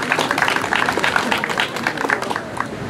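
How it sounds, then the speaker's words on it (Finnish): Applause and clapping from a crowd of spectators at a firewood-splitting contest at an outdoor market fair, steady and dense across the whole moment. "Annetaanpa heille aplodit"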